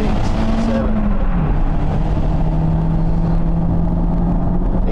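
Steady engine drone with a low rising and falling pitch as the car drives along, loud and continuous, with a person talking over it.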